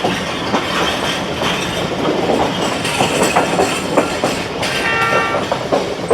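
A Sialkot Express passenger train draws into platform 2 at Wazirabad Junction, its coaches rolling past close by with steady, loud rumbling and wheel clatter, a few sharper metallic clanks and a brief squeal near the end.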